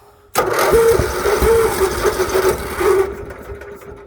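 A small engine on a Lincoln Electric welder cranks and catches, then runs steadily at a loud, rough mid-pitched drone for about three seconds before dropping off. It sits close and alone.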